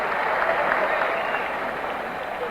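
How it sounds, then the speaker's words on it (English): Steady, dense applause from a ballpark crowd at the 1964 World Series game between the Cardinals and Yankees, a continuous roar of clapping hands lasting throughout without pause, broadcast over radio. "Getting a nice hand from the crowd for that great stop that he made."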